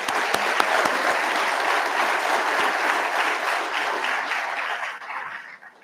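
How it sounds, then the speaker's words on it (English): An audience at a graduation ceremony for an MSFA class gives sustained applause, a full, dense roar of clapping that runs for several seconds before fading out at the end. "give them another round of applause"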